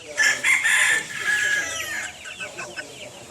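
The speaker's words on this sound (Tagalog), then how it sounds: "ito na po yung cockerel." A cockerel crows loudly close by, a sustained bright call that trails off into softer clucks and chatter over the final seconds.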